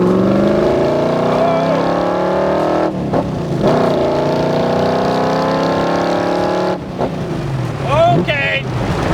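A 1965 Backdraft Cobra roadster accelerating hard, its loud engine note climbing through the gears in rising, throaty sweeps, close and dominant, with brief shifts between pulls.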